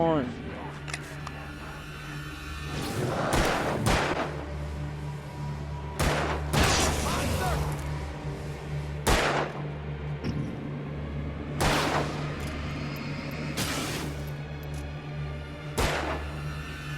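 Repeated bursts of gunfire in the horror game Alan Wake, sharp loud shots spaced a second or two apart over a low steady hum, with voices talking between them.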